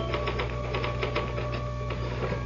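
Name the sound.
typewriter typing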